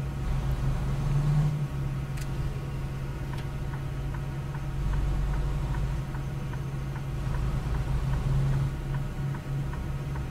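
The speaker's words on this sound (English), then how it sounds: "You see, you got the reefer sound going." Refrigerated reefer trailer unit in American Truck Simulator behind a Freightliner Cascadia with a realistic sound mod, a steady mechanical hum with faint regular ticking pulses, continuous and moderately loud with no talking.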